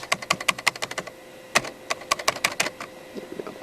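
Old IBM PS/2 computer keyboard typed on outdoors, a quick run of sharp plastic key clicks, a brief pause, then more scattered keystrokes, close and fairly quiet.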